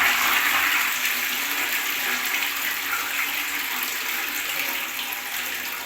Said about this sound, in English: Good long flush that time.